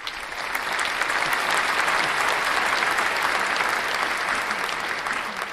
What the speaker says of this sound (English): So we'll give them a clap for that.